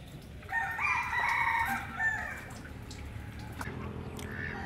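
A rooster crows loudly near the start, and chickens cluck on a rural Vietnamese farm on a rainy day, with occasional drips and soft clucks continuing afterward and no talking.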